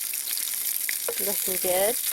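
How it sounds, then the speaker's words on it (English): Sausages frying over a woodland campfire give a steady broadband sizzle throughout, while brief speech breaks in near the end. "Bex has just put my sausages on."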